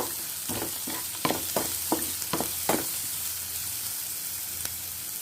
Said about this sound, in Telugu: ఆనియన్స్ ఫ్రై చేసుకున్నామండి.